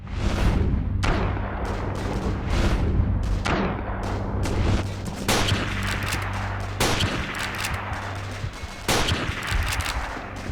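Gunshots in a cheap shovelware shooter video game crack repeatedly at irregular intervals, loud and near, each with a short booming tail over a constant low hum.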